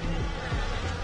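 Bee-like buzzing in the video game DC Universe Online, a close insect drone with a few quick wavering swoops over a steady low hum, lasting about a second.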